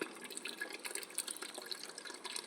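Water runs from a household tap in a soft, continuous hiss and splatter, fairly faint and steady throughout, with no talking.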